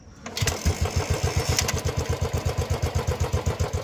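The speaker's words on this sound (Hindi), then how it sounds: "अपनी क्लासिक का जो इंजन पूरा सेट हो चुका है ठीक हो चुका है तो अब जरा इसका साउंड सुनो" An old Royal Enfield Bullet 350 Classic motorcycle, freshly repaired, starts and settles into a loud, close, even thumping idle with regular single-cylinder beats.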